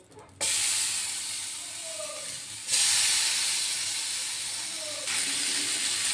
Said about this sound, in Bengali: প্যানটা গরম হয়ে গিয়েছে, এবার মাছগুলো দিয়ে দেবো।